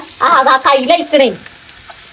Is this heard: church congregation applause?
no